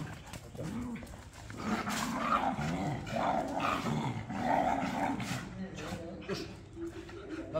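Angry dogs growl and bark close by at a camper stop in Pakistan, with repeated rough snarls and sharp barks rising and falling over several seconds while a person talks over them.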